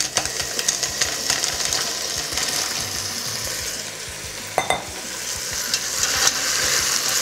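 Mussels cooking in a pot, stirred with a continuous wet sizzle and bubbling and irregular clattering scrapes of a utensil against the shells and pot, near and fairly loud, with no voices.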